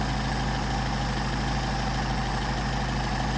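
A Mercedes 190SL engine runs at a steady idle on Solex 44PHH carburettors, a continuous low, even rumble with a faint mechanical hum and no voices.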